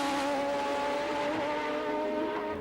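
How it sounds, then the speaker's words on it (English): Formula One racing cars of 1990 at the Mexican Grand Prix scream past while braking at the end of a long straight, a loud sustained high engine whine with shifting pitch and no talking. "we'll watch them close up as they come on the brakes at the end of this long, long straight"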